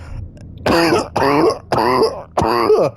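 Four harsh, throaty coughs in quick succession, close and fairly loud, with brief pauses between them.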